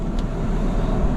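A Hyundai Accent with an intermittent misfire idles steadily at close range, a continuous low engine rumble with no talk over it.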